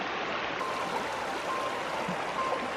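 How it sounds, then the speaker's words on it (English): Shingle Creek runs as a steady, close wash of flowing water with a constant rushing hiss and faint trickling detail, no voices over it. "Shingle Creek."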